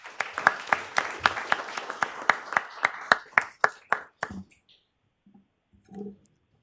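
Attendees at a transit board meeting applaud staff promotions with a sparse group clapping, distinct individual claps in a loose rhythm for about four seconds before stopping, then a brief murmur of voices.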